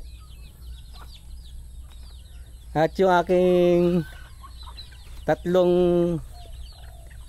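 Pet chickens at an afternoon feeding, with a few large hens among them, give two loud bursts of clucking close by over a quiet background, and a person speaks briefly.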